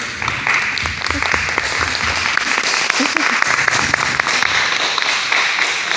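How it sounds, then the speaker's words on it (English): An audience applauds steadily for six seconds for survivors of a tragedy at a recognition event, a dense, even patter of clapping with a few voices faintly mixed in. "give these people who survived this very, very tragic and terrible thing a round of applause for their strength"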